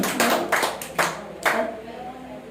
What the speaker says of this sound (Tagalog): Malakas na palakpak sa ating Panginoon.